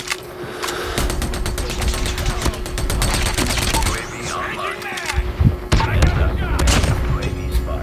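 Rapid gunfire in Call of Duty Mobile during a ranked match, volleys of sharp shots and bursts in quick succession, close and loud, with a voice speaking briefly over the action.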